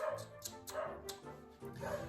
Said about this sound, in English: a very bad dog barking during the broadcast.